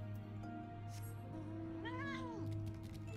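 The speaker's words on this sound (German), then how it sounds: "Hallo Katze." A cat in the video game Final Fantasy XIV gives one clear rising-and-falling meow near the middle, over a steady low game hum and music-like drone.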